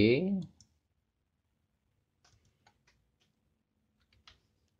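Computer mouse clicks while operating Wonderware InTouch 10.0 SCADA software, a few faint, sparse taps spread over several seconds after a short burst of speech at the start, otherwise near silence.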